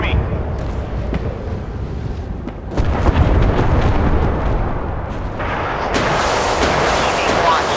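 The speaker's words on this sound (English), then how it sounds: "Ready to open fire on the enemy." Warship guns boom in the Force of Warships naval battle game, heavy rumbling blasts that swell and overlap in loud bursts while a game voice speaks over them.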